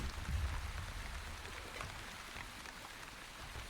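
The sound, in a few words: light rain in video game Wandering Village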